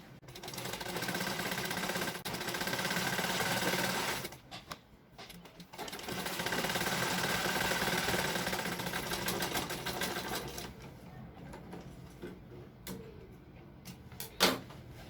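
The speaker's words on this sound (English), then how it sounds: "You're going to be sewing on the other side." A sewing machine stitches the last side of a throw pillow with trimming. It runs in long, steady buzzing stretches, pauses briefly midway, then hums more quietly with a few clicks at the end.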